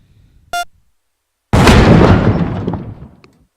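A brief electronic beep comes first, then a loud bomb explosion goes off in a video game, a sudden heavy blast that rumbles and fades out over about two seconds.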